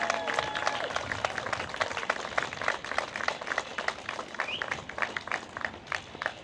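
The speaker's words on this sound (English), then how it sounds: "Can we please have a big round of applause for the chief?" Crowd at a new fire station groundbreaking ceremony clapping for the fire chief, a steady patter of many hands at moderate distance that holds evenly throughout, somewhat soft.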